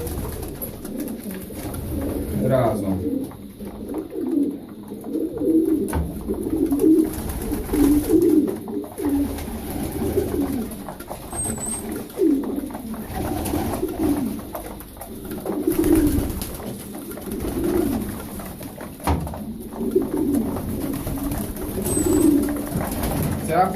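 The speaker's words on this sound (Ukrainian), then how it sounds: "Тут у мене знаходяться голуби." Sport pigeons in a loft give repeated soft, low cooing calls, overlapping and rising and falling close by, with brief speech in the background.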